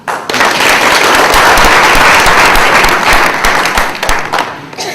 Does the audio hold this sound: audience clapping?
yes